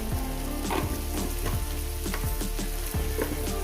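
Steady, close sizzling of onions frying in a hot pan, with occasional scraping stirs and soft clinks throughout.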